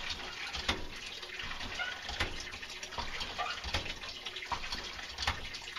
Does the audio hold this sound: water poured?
yes